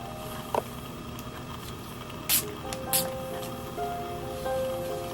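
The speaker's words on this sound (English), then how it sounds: "I'm gonna be spraying my hair with some Aveda heat protectant." Aveda heat protectant sprayed onto sectioned hair in two short, crisp hissing bursts close by, over a faint, steady room background.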